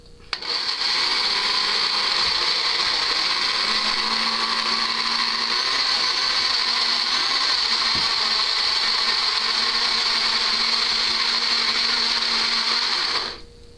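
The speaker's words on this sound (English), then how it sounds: "As you can tell, I have a crappy blender" A blender chopping a pepper runs steadily for about twelve seconds, a loud, harsh, high-pitched motor whine with a rattling grind, starting and stopping abruptly.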